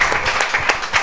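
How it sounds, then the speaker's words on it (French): A church congregation at a Thursday service claps in a quick, uneven burst, many hands close together for about a second, loud and lively with no talk over it. "Applaudissez un peu le Seigneur."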